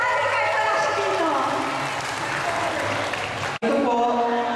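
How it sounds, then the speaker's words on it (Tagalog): Audience applause at a 2012 high school batch reunion, steady dense clapping filling the room for several seconds, cut by a brief dropout before resuming. "Palakpak po natin si Lani kahit wala siya dito."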